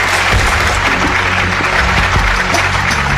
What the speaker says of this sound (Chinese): 来，我们掌声有请